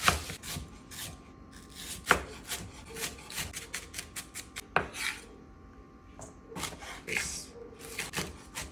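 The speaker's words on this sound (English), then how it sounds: "I'll cut up a little onion and jalapeno in it" Knife chopping onion and jalapeno on a cutting board for egg rolls, giving a run of sharp, uneven close-up chops with scraping in between and no talking.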